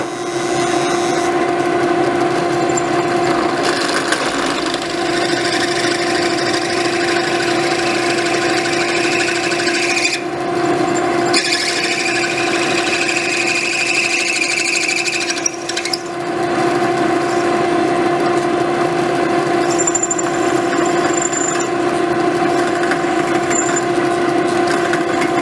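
A power drill runs steadily and loudly, boring holes while a modified case is made, with a continuous droning whir and slight changes in load throughout.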